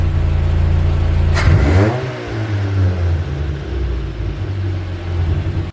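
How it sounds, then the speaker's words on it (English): A Honda Civic engine revs up sharply once, climbing then settling back to a steady idle rumble, close and loud with no talking. "Don't forget to rev it a bit."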